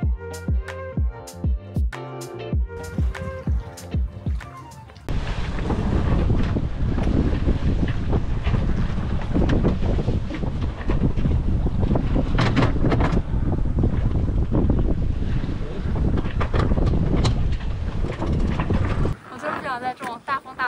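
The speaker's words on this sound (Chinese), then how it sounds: "在这种大风大浪天出来" Strong wind roars and buffets the microphone on a sailboat at sea near Croatia, with rushing waves and spray; a voice speaks briefly over the start before the gusts take over.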